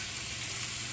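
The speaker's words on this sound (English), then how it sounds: "This is sizzling." Beef chorizo sizzles in a pan, a steady, faint hiss of frying with no voices over it.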